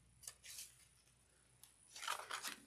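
Scissors snip through fabric trimmed around a sewing-pocket zipper, with a few short, crisp cuts at the start and a busier cluster of snips near the end, fairly faint and close.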